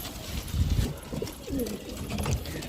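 Pigeons coo in low, throaty, repeated rolls close by, with soft rustling and shuffling in the background.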